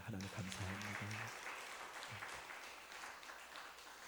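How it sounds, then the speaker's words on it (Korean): Church congregation applauding during a Korean worship service, a faint, steady wash of clapping that sustains for several seconds, with a voice speaking briefly near the start. "우리 하나님께 영광의 박수 올리겠습니다"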